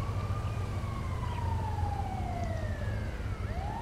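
An ambulance siren in the video game GTA V wails in slow, rising and falling sweeps over a steady low rumble, sounding moderately distant.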